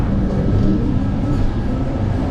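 An Indian Railways Vistadome coach runs along near Aluva, giving a continuous loud low rumble and rattle heard from inside the carriage, steady throughout with no distinct speech.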